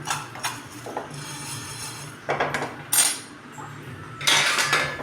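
Roasted rice being scraped from a pan onto a plate, a close run of metallic spoon scrapes and clinks in bursts over a low hum, with no talking.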